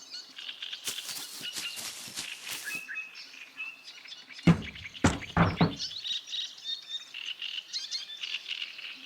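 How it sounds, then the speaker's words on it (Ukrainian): Bright, high bird chirps and tweets in the video game Hello Neighbor: Hide and Seek, a cluster of quick calls early on, then a few sharp flutters over a faint, steady ambient background. "О, пташка."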